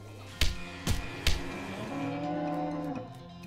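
In the West of Loathing video game, a cow gives a low, sustained moo of about a second. Three sharp percussive hits come just before it, over steady game background sound.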